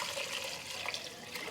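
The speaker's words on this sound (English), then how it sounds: "So now I'm going to add 6 cups of water." Water pours steadily into a cooking pot with tender cooked leeks, a continuous bright splashing rush with no talk over it.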